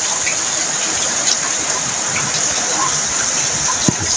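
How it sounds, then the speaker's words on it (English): Heavy rain falls steadily during a storm in Jamaica, driven sideways by the wind. It makes a dense, loud wash of noise with a few faint knocks and splashes. "Sideway, the rain is falling."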